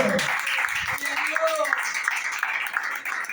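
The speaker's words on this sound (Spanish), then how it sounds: "Dale un fuerte aplauso." A church congregation breaks into applause, a dense burst of clapping from many hands sustained for a few seconds, with a voice speaking over it at the start.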